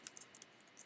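Light keystrokes on a computer keyboard, a handful of quick crisp taps in small clusters, close and fairly quiet.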